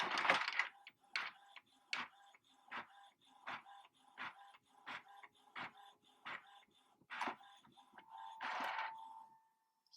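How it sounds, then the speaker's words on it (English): A compact, inexpensive home printer runs off a copy, with a regular series of clicking, whirring mechanical strokes about every half second and a longer feed sound near the end, heard alone at moderate volume. "I think just hit print"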